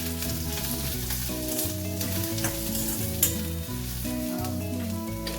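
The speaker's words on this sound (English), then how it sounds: "Now we'll be adding and sauteing all our ingredients, that is onions, which are grated and squeezed" Grated, squeezed onions and cabbage sautéing in oil, a steady dense sizzle that runs unbroken and fairly loud throughout, with no talking.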